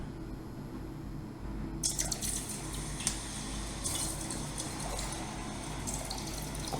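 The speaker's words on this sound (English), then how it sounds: "I'm going to pour this now into some water." Liquid from a gold electrolytic cell is poured into water, giving a quiet, continuous splashing trickle with a few brief clinks after a hushed start, close by and without speech.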